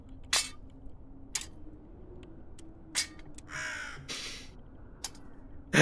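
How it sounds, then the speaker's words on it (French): A crow caws repeatedly while tapping on a watch in the video game Tick Tock: A Tale for Two, sharp broadband bursts spaced irregularly with a longer harsh caw midway, close and clear over a low hum, with no talking. "j'ai un corbeau de fils de pute qui tape sur ma montre"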